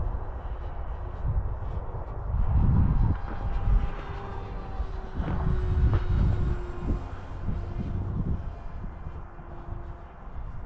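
Electric prop-jet F-16 model airplane at full throttle, a steady loud whine and rushing hum with rising and falling swells as it passes overhead, no voices.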